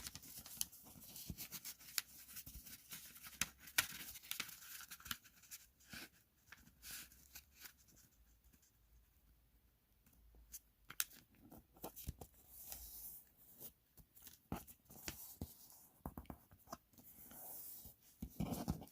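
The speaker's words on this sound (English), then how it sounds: "we're going to fold this in half to make a triangle" Crisp paper creasing and rustling as a sheet is folded in half into a triangle for an origami bunny, with irregular soft scrapes and taps close by, quieter in the middle stretch and busier toward the end.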